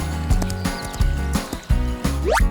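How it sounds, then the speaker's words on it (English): A horse whinnying in bright, repeated neighs over rhythmic clip-clop hoofbeats, loud and close, ending in a rising squeal. "horse."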